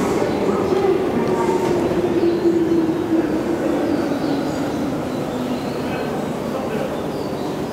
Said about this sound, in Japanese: 電車を発車します。